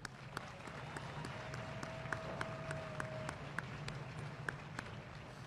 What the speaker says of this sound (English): Please join me in a round of applause to this great band.